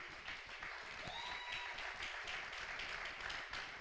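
Audience applause greets a speaker as she is welcomed at a talk on building to scale, with steady, moderately distant clapping from a crowd and no voices over it.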